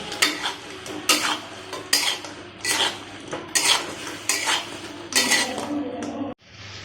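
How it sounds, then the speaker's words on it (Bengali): Fried chicken is stirred into chilli sauce in a pan, producing loud, close, rhythmic scraping and clattering strokes about once per second over a soft sizzle, with no one talking. "ভালোভাবে নেড়ে নিব।"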